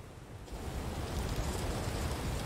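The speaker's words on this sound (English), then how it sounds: "It's raining outside" Steady rain falls outside, a dense continuous hiss of drops with no breaks, fairly loud and close, with no voices over it.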